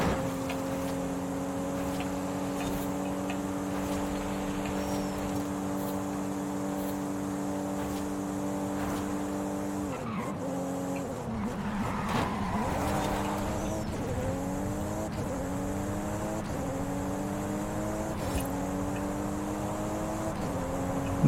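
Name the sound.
car driving in video game Forza Horizon 5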